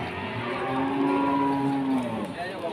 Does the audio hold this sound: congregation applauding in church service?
no